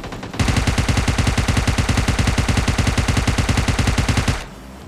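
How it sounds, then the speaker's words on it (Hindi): Heavy automatic gunfire in a solo-versus-squad battle royale video game, a long, loud, evenly spaced rapid burst of shots that runs nearly four seconds before cutting off. "सामने से सेंट्रल रोड की तरफ से मुझे बहुत तगड़ी फायरिंग की आवाज़ आ रही थी"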